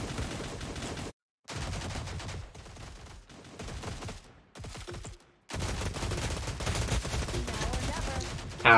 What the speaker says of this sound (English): There was a lot of gunshots.